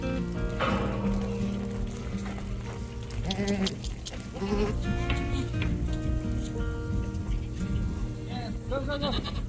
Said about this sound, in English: goats are coming.